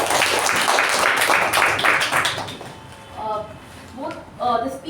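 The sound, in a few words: audience applause at a Toastmasters meeting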